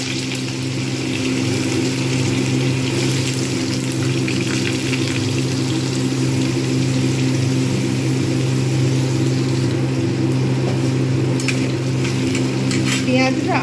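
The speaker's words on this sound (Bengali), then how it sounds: "এইবার এর মধ্যে আমি আলু এবং কচু একসঙ্গেই ভাজবো।" Potato and taro pieces fry in oil in a pan for a village-style dish, giving a loud, steady sizzle with occasional stirring and utensil clinks near the end.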